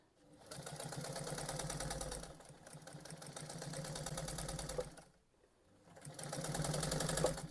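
A sewing machine runs almost continuously while stitching an extra-large Christmas stocking, a close steady whirring hum that dips briefly into a short pause before resuming at a slightly faster, louder pace.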